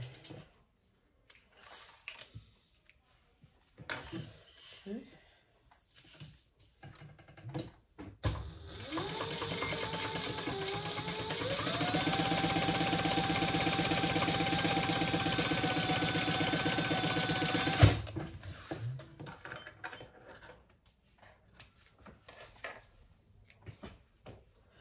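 A sewing machine runs steadily for about nine seconds, stitching the long edges of a small tote bag at the seam allowance; its rapid rhythmic whir rises in pitch as it speeds up, with quiet handling before and after.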